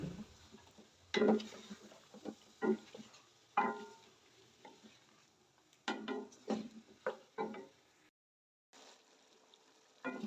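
A wooden spoon stirs a fried ginger, garlic and chili paste for chicken korma masala in a pot, making quiet intermittent scrapes and knocks with short gaps between strokes.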